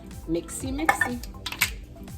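Walnut candy ingredients mixed in a pot with a spoon, giving a string of close scraping and clinking strokes against the metal, with a few sharper taps standing out.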